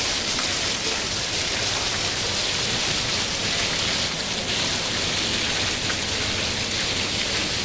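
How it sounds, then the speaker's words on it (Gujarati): Heavy rain pours down hard and continuously, a loud, dense hiss of drops drumming on surfaces that holds steady from start to finish without any talk. "પાંચ મિનિટમાં જોરદાર વરસાદ પાણી પાણી થઈ ગયું છે"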